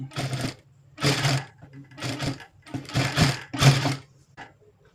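A sewing machine stitches a blouse seam in five short bursts of about half a second to a second each, separated by brief pauses. The machine is close and moderately loud, with no talking.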